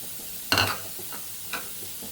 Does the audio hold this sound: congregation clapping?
no